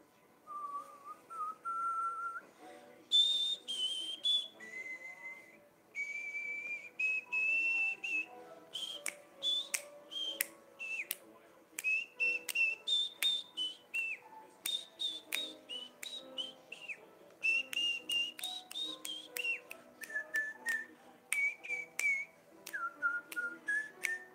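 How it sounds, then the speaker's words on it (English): A person whistles the Gravity Falls theme alone, a clear, bright melody of quick, rhythmic notes and short phrases carrying on for over twenty seconds, close and fairly quiet. "Try to whistle the theme to Gravity Falls."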